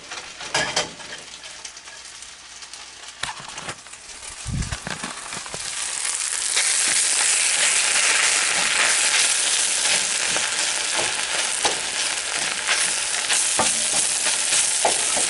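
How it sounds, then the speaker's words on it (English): Eggs being mashed and fried in a pan for shrimp fried rice: scraping and tapping at first, then a loud, steady sizzle with utensil scrapes continuing close up. "I'm going to start mashing up my eggs in here."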